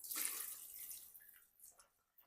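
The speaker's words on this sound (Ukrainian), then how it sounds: "І тепер оцей розсіл виливаю на перець." Brine poured over about 1.35 kg of peppers packed with dill for salt-pickling: a close, splashing liquid pour that is strongest at first, then thins to scattered drips and trickles with short pauses.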